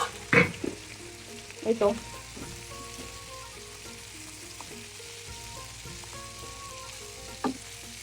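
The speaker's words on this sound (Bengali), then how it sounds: "খুব সুন্দরভাবে ফ্রাই হচ্ছে" Crabs frying in a pan give a steady close sizzle, broken early by a few sharp clanks and stirring knocks and one more near the end, while a voice speaks only briefly.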